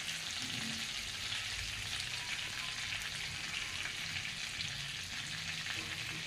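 Cumin seeds and curry leaves sizzle in hot oil for dal fry: a continuous, even crackling hiss with no pause and no voices.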